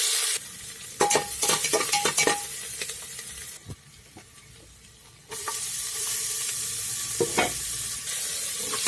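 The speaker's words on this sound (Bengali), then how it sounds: "ভালো করে লাল করে ভেজে নেব।" Ginger, garlic and onion frying in oil in a pan until browned for khichuri: a steady, close sizzle broken by sharp scraping stirs and clinks, with a brief quieter lull midway before the hiss returns.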